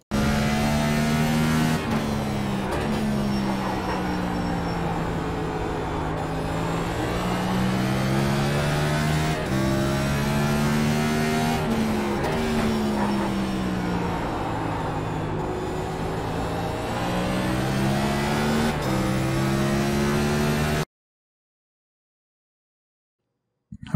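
A race car engine drones loudly through a full lap of Martinsville in iRacing, its pitch rising and falling with each shift and corner, continuous and close until it cuts to silence near the end.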